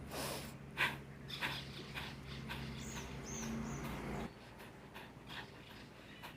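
Repeated sharp, forceful nasal exhalations of kapalbhati yoga breathing in quick rhythmic succession, breathy and close, over a low steady background hum.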